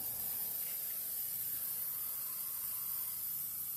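A rattle can sprays paint onto a rusty cabinet in one continuous, steady hiss, close and even, with no pauses or voices.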